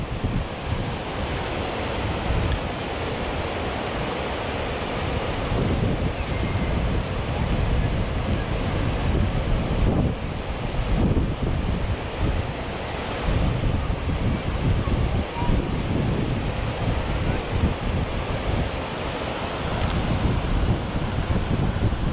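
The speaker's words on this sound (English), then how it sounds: "Water cascading down." Water cascading down a reservoir overflow, a continuous broad rushing roar mixed with wind noise on the microphone, steady and fairly loud with no pauses.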